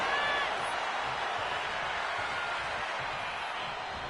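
Crowd noise in a wrestling video game arena, a steady, loud roar with faint cheering and whoops, continuous throughout.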